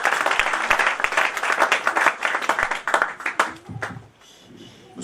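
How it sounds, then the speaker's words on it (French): A church congregation at an anniversary service applauds with loud, close, rhythmic clapping that thins out and fades toward the end, leaving a faint murmur of voices. "Donnons une acclamation au Seigneur."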